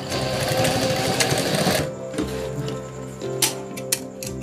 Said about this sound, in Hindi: इसको इधर हम दो बार फोल्ड करके सिलाई कर लेंगे ताकि वो निकले ना